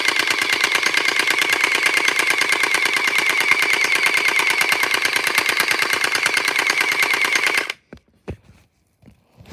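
A HERISONA M4A1 gel blaster fires on full auto, a loud, steady, fast buzzing rattle that runs for about eight seconds, then stops abruptly, followed by a few faint handling clicks.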